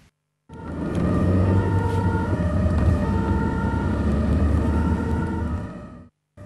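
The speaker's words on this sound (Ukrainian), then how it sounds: "автівка з увімкненим спецсигналом у супроводі патрульної поліції проїхали вулицями Хмельницького" A police-owned ambulance drives through the streets of Khmelnytskyi with its siren on, escorted by patrol police. The siren wails steadily and loudly over engine rumble for several seconds, then cuts off.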